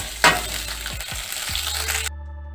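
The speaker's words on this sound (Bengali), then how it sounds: "আলুটা হালকা করে ভেজে নিয়েছি" Mixed vegetables, including lightly fried potato, carrot, flat beans and green beans, sizzle in a kadai. The frying is steady and close, with a few quick stirring scrapes, then cuts off abruptly.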